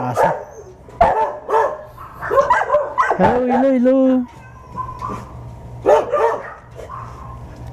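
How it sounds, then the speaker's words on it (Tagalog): Big dogs bark loudly and repeatedly nearby in short bursts, with a drawn-out whine or howl between barks, while a man calls out over them. "Lalaki ng mga aso"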